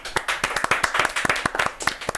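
A studio audience at an Indian TV quiz show claps in a loud, brisk burst of close, sharp hand claps lasting about two seconds.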